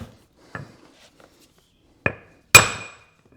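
A rawhide mallet taps on a garden tractor's steering axle during a repair, four dull knocks spaced irregularly, the last one loudest with a short metallic ring, close up in a quiet room.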